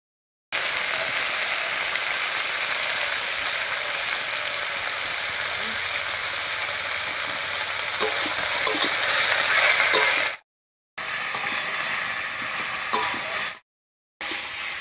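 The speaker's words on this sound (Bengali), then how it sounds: "এই অবস্থায় কাঁঠালি লুচির সঙ্গে কচুর লতিটাকেও একটু ভেজে ভেজে করে নেব" Kochur loti (taro stolons) fry in a pan with a steady, fairly loud sizzle that runs nearly continuously and drops out briefly twice near the end, with occasional stirring scrapes.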